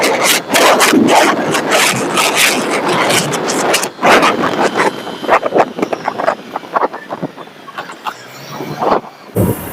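A Honda Dio scooter with an intermittent engine cut-out fault rides along a road, giving a steady, loud rush of wind and road noise with engine drone and passing traffic, and no speech.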